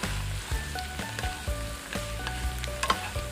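Small dried fish frying in a wok with white sesame, sugar and baijiu, a constant loud sizzle broken by regular scraping as the spatula stirs the pan.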